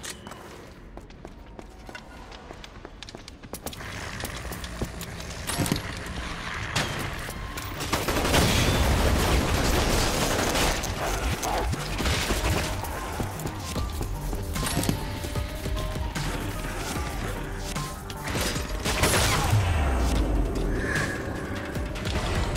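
Weapon gunfire in the shooter video game Umbrella Corps, dense rapid mechanical shots and clanks in quick bursts, loud and close, with game sound effects around them.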